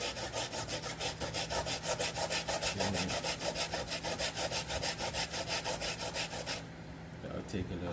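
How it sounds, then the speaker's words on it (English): Coconut grated by hand for Antiguan ducana, a steady run of rapid rasping scrapes in rhythmic strokes, close and loud, easing off near the end. "I'm still grating the coconut."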